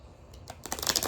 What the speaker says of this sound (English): still trying to shuffle.